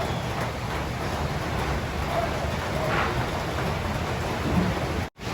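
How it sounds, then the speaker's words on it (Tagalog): Heavy rain pours steadily at a pigeon loft and aviary, a dense continuous hiss with no pauses and a brief dropout near the end. "Ang lakas ng ulan, nabuta yung dito."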